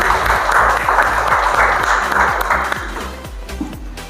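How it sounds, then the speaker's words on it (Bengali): Loud applause from a children's reality show audience on stage, a dense wash of clapping over steady background music, strong at first and easing slightly toward the end. "জোরে একটা হাততালি।"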